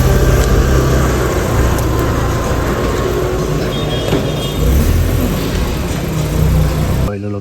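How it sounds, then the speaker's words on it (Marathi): A car's engine hums and revs at moderate loudness as it turns around on a road near Diveagar, a steady, fairly close mechanical drone that runs throughout and stops abruptly at the end. "गाडी वळत आहे."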